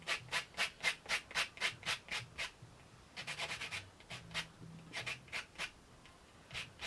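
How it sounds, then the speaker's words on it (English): Wood scrap edges being hand-sanded, a steady run of close, rhythmic rasping strokes, about two per second, with a brief pause midway before the strokes resume. "I can now sand the edges down."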